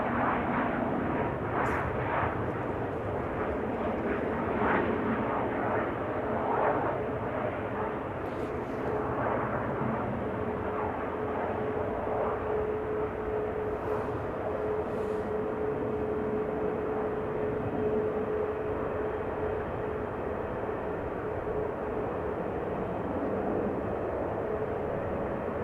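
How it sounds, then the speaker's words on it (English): Airplane landing on runway 24 at Amsterdam Schiphol Airport after a last-minute left turn off the runway 27 glide slope, a steady loud engine roar rumbling continuously throughout with a faint whine, no talk. "this airplane, following the glide slope for runway 27, then making a last minute left-hand turn, will be landing on runway 24"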